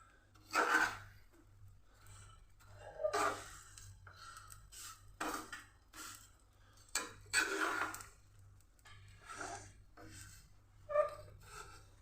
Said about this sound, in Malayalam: ഇതിളക്കാം. ഇളക്കി കൊടുക്കാം.